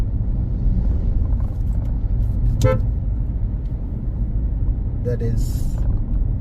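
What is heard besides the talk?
car driving on road in Barbados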